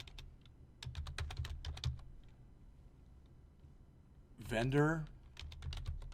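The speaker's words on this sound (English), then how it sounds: "if I want to enter my own query, I click SQL right here. All right, and now I can type in select" Clicking keystrokes on a computer keyboard as an SQL query is typed, quick close taps in two short runs, broken by a brief spoken word.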